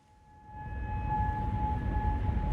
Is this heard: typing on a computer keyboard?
no